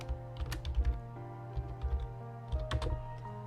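Rapid typing on a computer keyboard, with irregular bursts of clicky keystrokes and short pauses over steady background music, close and moderately loud.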